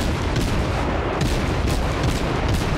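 Warship guns fire in the naval video game World of Warships, a dense rumbling barrage of booms and blasts with repeated sharper reports breaking through a continuous loud roar.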